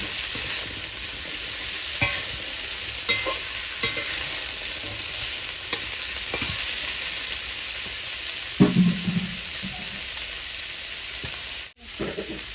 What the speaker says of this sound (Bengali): এবার এরকম ভালো করে ভেজে নেব